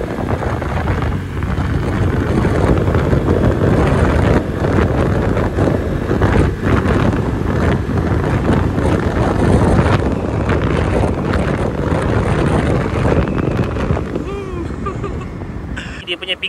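A 108cc motorcycle climbing a slight hill, its engine droning under heavy wind buffeting that roars steadily across the whole ride, loud and close, easing toward the end.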